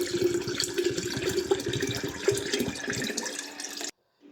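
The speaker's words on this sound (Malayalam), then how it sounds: "പിന്നെ ഇതിലേക്ക് സാധാ പച്ചവെള്ളം ഒഴിച്ചു കൊടുത്തു." Plain tap water pours steadily into a jar of brine and vinegar being prepared for pickled apples, a continuous splashing stream with a low gurgle that stops abruptly near the end, no voices.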